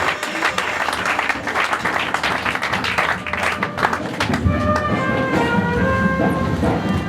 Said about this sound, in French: Applaudissons pour monsieur l'administrateur